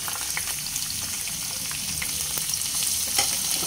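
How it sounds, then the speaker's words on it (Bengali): Chopped onions hiss and crackle in hot oil as they are stirred in a pan for a fish-head chana dal, a dense close sizzle with faint scraping, no talk. "পেঁয়াজ নেড়ে চেড়ে গোল্ডেন করে ভেজে নেব।"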